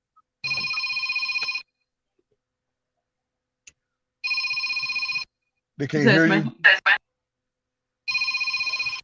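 A mobile phone rings in repeated electronic tone bursts, about a second each with pauses between, loud and close; someone speaks briefly between the rings.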